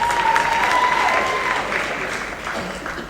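Crowd applause at a high school academic excellence awards ceremony, a dense wash of clapping that gradually fades, with a faint steady tone running through it.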